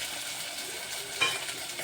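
Tomatoes frying in oil give a steady soft sizzle with a brief clink of a utensil against the pan partway through, close and fairly quiet, with no talking.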